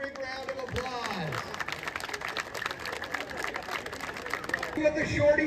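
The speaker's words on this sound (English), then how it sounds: "give them a big round of applause" Audience applause and crowd noise at a car burnout event featuring a 1969 Dodge Charger, a dense steady wash of clapping mixed with voices and background commotion for several seconds.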